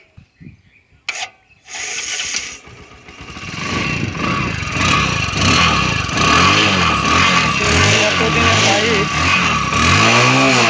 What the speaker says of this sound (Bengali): এখন আমরা দেখব বাইকটির সাউন্ড কোয়ালিটি